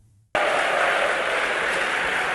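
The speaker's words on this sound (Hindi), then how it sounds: "मैं इसको किस प्रकार से कहूँ कि तालियों की गदगदाहट" An audience bursts into sudden, loud applause after a brief quiet moment, with the clapping continuing as a dense, steady roar to the end.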